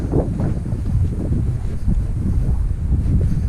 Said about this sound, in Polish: Wieje trochę dzisiaj.